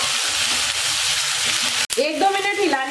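Shredded cabbage stir-fries in a pan with whole spices, cumin and mustard seeds, giving a loud, even hiss that cuts off abruptly partway through, followed by a softer sizzle with a brief tonal sound over it.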